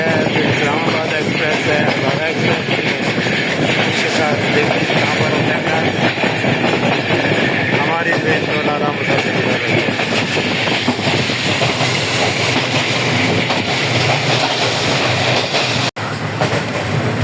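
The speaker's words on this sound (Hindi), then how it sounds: "ट्रेन झेलम पहुंचने वाली है और बारिश शुरू हो गई है।" The Sir Syed Express of Pakistan Railways rumbles steadily along the rails in rain near Jhelum, a continuous clattering roar, loud and close throughout, with faint voices mixed into the din.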